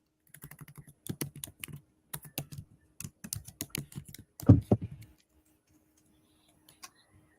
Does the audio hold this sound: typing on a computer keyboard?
yes